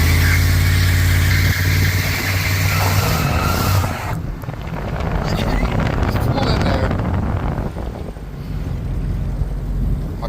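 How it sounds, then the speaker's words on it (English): Engine of an LS-swapped OBS short-wheelbase truck revving loudly in a burnout attempt, a steady heavy drone with wind buffeting the microphone; it drops away partway through and carries on as a rougher rumble. "Maybe a burnout, but we're gonna see how it do with a burnout, y'all."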